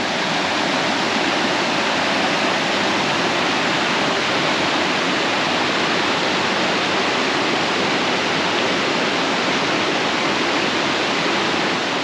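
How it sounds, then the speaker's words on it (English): The Verzasca River rushes loudly and continuously, a dense roar of white water close by with no talk. "So this is the river El Rio de Costarena."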